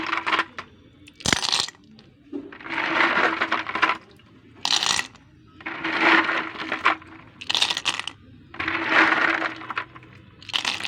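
Small pond snails being tipped into a wok, coming in several bursts of hard clattering and rattling shells against the metal, separated by short quieter pauses.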